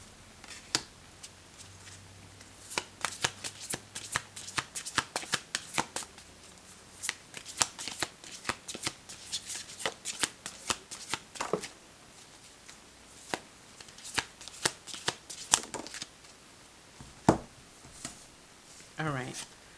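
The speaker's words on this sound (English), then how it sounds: "Let's pull a couple of cards." Oracle cards shuffled by hand during a podcast card reading, a close, quiet run of crisp flicking and riffling snaps in irregular bursts over about twenty seconds, with brief pauses between handfuls.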